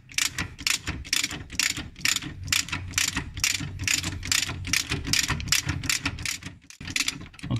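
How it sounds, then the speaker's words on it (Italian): A size 19 wrench ratchets a shock absorber nut loose on a Fiat Panda 4x4 Trekking. Quick, regular clicking runs nonstop, close and fairly quiet, with one brief pause near the end. "con la chiave 19 possiamo svitare tranquillamente"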